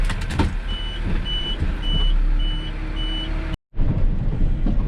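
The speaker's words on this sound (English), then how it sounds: "I'm pulling out with the wrecked car" A tow vehicle hauling a wrecked car gives off a steady series of evenly spaced reversing beeps over a loud idling engine rumble, with a brief dropout near the end.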